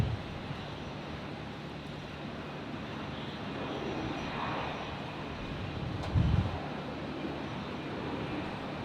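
An airliner takes off from runway 01 right at Brisbane Airport, giving a distant, steady engine roar with wind buffeting and a brief low thump partway through.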